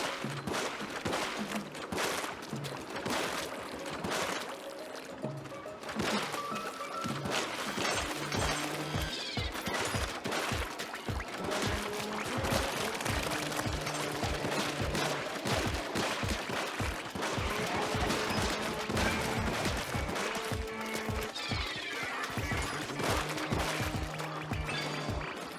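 Rapid gunfire from the Splatoon Raiders video game comes in dense, repeated bursts over a busy layer of game music and effects, loud and nearly continuous throughout.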